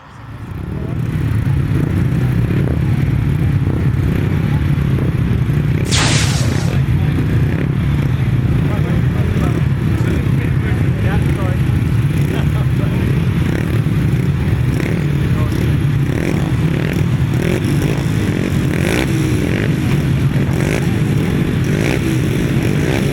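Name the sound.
350cc grasstrack motorcycles racing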